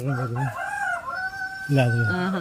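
Several chickens crow and cluck up close, drawn-out rooster calls rising and falling in two bursts, one early and one near the end, with softer clucking in between.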